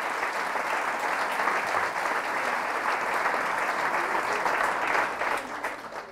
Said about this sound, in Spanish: Fuertes aplausos al Rey de Reyes y Señor de Señores